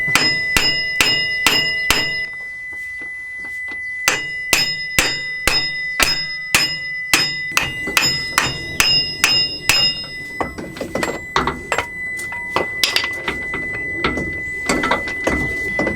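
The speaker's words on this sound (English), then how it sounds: "Get a brass hammer and start." Rapid, evenly spaced brass hammer strikes on a car driveshaft ring out loudly, a steady series of clanging blows with brief pauses and some scraping clatter later.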